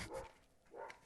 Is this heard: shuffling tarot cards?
no